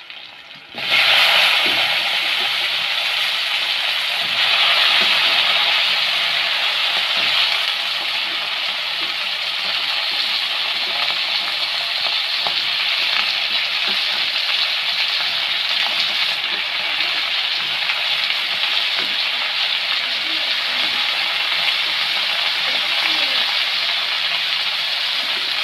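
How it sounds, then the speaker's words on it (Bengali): Potatoes and eggplant hitting hot oil for a fish curry, a sudden loud hiss that settles into a dense, continuous sizzle with faint stirring taps underneath. "এখন আলু বেগুনগুলো ছেড়ে দেব।"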